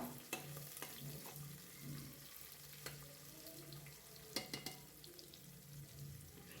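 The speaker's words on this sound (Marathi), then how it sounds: "कांदा छान आपला परतून घ्यायचा आहे आपल्याला" Onions sauté in a pan with a quiet, steady sizzle, broken by occasional spatula scrapes and taps against the metal, close but low in level.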